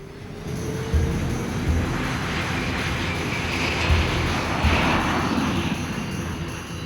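A fixed-wing airliner takes off on a 1970 flight, its engines giving a steady, loud roar with a rising whine that lasts throughout, no voices heard.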